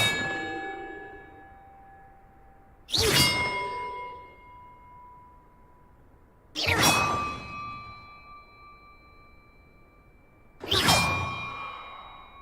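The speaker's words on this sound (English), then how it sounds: "Perhaps the map contains clues about the order I'm supposed to ring the bells in." Bells ring one at a time in Hogwarts Legacy on PS5, four loud metallic clangs spaced a few seconds apart, each decaying into a long shimmering tone. No voices.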